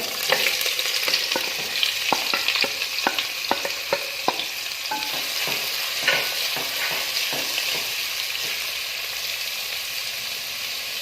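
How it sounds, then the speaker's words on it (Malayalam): Sliced onions fry in hot oil in a pan for a vegetable chicken curry, a loud continuous sizzle close by, broken by repeated sharp clicks and scrapes of a spoon stirring. "ഓയിൽ നന്നായിട്ട് ചൂടാകുമ്പോൾ നമുക്ക് സവാള ചേർത്ത് കൊടുക്കാം"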